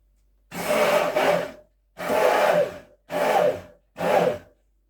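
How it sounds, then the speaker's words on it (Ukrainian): A kitchen blender whirs in four short bursts, mixing a drink of pumpkin and apple juice, each pulse starting and stopping abruptly with brief silences between. "І все це ретельно змішуємо за допомогою блендера."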